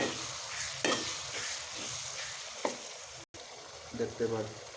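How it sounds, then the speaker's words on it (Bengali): Powdered spice masala stirred and fried in a pan: a steady close sizzle runs throughout, broken by occasional scraping strokes of the spoon, with a brief dropout near the end. "নেড়ে ছেড়ে কষাই নেব।"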